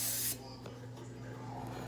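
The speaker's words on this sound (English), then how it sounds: "you are going to take your cooking spray. And you are going to spray your muffin" Cooking spray hisses briefly and loudly onto muffin tins, a short burst that stops after a moment, followed by a low steady hum and faint rustling.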